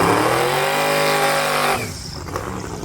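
A drag racing car with a 5.3 litre Rover engine revs loudly and close by, holding a strong, steady note that cuts off abruptly partway through, leaving fainter background noise at a drag strip in Kent.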